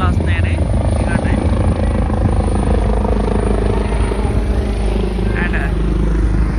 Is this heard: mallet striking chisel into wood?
no